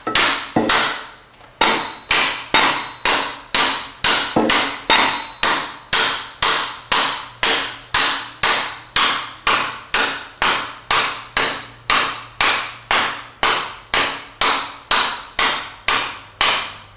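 A steel, non-brass hammer beats steadily on a part of an MGB engine during a rebuild to knock it loose: about thirty sharp, loud metallic blows in an even rhythm, close up, with a brief pause near the start.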